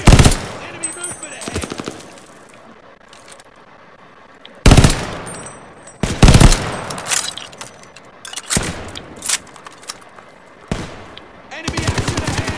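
Bursts of automatic and single gunfire from a Call of Duty Vanguard battle crack loudly at intervals, with quieter stretches of ambient noise and scattered shots between the volleys.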